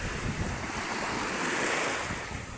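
Heavy sea waves pound the shore in a loud, unbroken roar during Typhoon Opong, with strong wind blasting across the microphone throughout and no voices.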